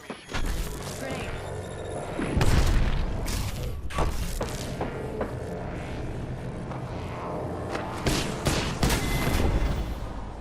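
Grenade blast and sustained gunfire in a video game shooter, dense continuous booms and rattling shots filling the whole stretch, loud with a heavy thump near the start and bursts later, with a voice talking over the action.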